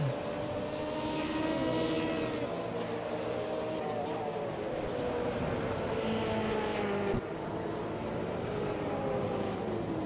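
Several DTM racing car engines in a video game drone and whine at high revs at Hockenheim, pitch sweeping up and down as cars pass, a steady loud roar throughout.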